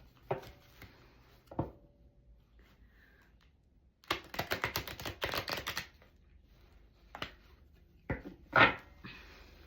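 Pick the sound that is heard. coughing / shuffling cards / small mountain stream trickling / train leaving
shuffling cards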